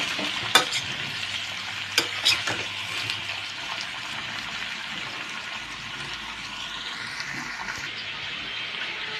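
Cauliflower fries in a pan with a steady sizzle, punctuated early by a few sharp clicks of stirring, moderately close and without talk.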